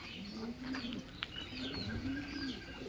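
Pigeons coo in a racing pigeon loft on a farm, with two soft rising-and-falling coo phrases close by, a small sharp click between them, and faint chirps over low background noise.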